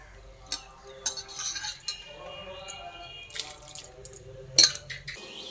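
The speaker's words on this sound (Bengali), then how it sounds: "ডালটা দিয়ে একবার ভালো করে নাড়াচাড়া করে মিশিয়ে নিচ্ছি।" Washed red lentils stirred into hot water in a pan, a spoon clinking and knocking against the metal a few times, with soft watery swishing between the sharp taps.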